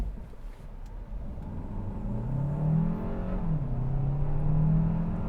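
A 2024 Hyundai Santa Fe Hybrid in sport mode accelerates from 0 to 60, its engine note rising as a droning hum under road rumble, with no voices.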